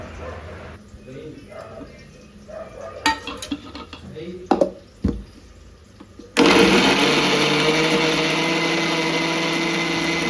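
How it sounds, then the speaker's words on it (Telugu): Mixer grinder whirring as it grinds fried tomato and onion into a coarse paste, a loud steady motor roar starting abruptly partway through after scattered kitchen clatter and handling knocks. "ముందుగా వేయించి పెట్టుకున్న టమాటా అండ్ ఆనియన్ నేనైతే ఇక్కడ గ్రైండర్ పడుతున్నాను"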